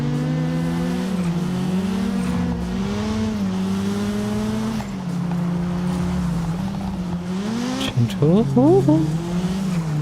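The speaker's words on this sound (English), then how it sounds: "Oh, car sound back." Race car engines in the video game Test Drive Unlimited Solar Crown whine and rev with shifting pitch, tires squealing briefly near the end, while a person talks over the noise.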